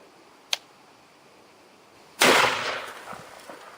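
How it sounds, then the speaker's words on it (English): A shotgun fires a slug at a target about five or six meters away, a single sharp close blast with a fading tail, preceded by a small click. "we're getting ready to do our first test by firing with the slug"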